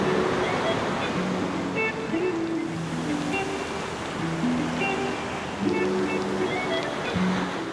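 Ocean surf breaks steadily along a beach on the Mexican coast, a broad continuous wash of waves with some wind, while people talk over it throughout.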